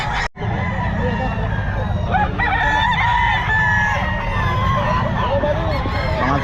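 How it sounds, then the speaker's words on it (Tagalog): Chickens and roosters crowd a pet market in Bocaue, with repeated crowing and clucking layered over a busy, noisy background of market chatter and bustle. "Daming manok oh."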